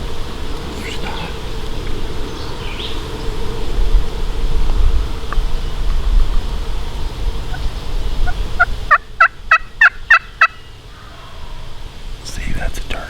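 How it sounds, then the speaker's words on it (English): Wild turkey gobbling in the woods during turkey season, a quick burst of rapid gobbles from a distance rising out of steady outdoor ambience, with hushed voices earlier. "See, that's a turkey."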